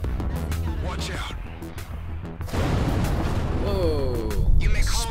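An explosion in the space-combat game Everspace 2 booms out as a deep, loud rumble, mixed in with game effects and music while a player talks over it.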